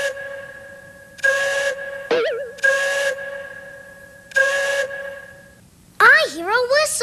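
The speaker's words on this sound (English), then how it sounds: "I hear a whistle." Steam-style whistle blasts from the JumpStart Kindergarten video game, three long sustained toots evenly spaced with pauses between, followed by a brief warbling cartoon sound effect at the end; no talking over it.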